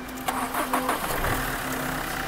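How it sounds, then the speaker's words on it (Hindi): A 2015 diesel car with a Swift engine cranks and catches, then settles into a steady, fairly loud idle close by, with no talking. "भाई गाड़ी हो चुकी है स्टार्ट जैसे बताया"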